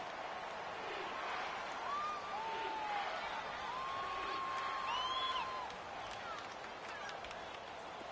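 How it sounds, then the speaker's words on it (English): Stadium crowd in a PS4 football game roars steadily at a big third down, a broad wash of cheering with a few whistles and whoops rising over it. "the crowd getting into it as we come up on a big 3rd down"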